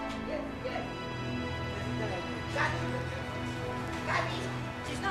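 A neglected dog in Cape Town gives intermittent barks and whimpers over steady background noise, with people talking nearby.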